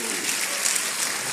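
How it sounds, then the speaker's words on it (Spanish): Audience applause at a business opportunity meeting in Guadalajara: a brief, steady wash of clapping from a crowd, moderately loud and continuous with no talk over it. "Fuerte el aplauso para Lulú."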